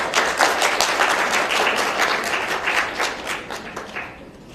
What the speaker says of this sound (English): Let's really give another round of applause